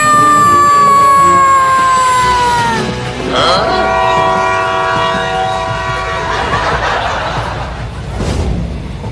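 A train sounds a long, loud horn blast that breaks off, followed by more horn tones and rumbling rail noise, with a brief burst of voices near the end.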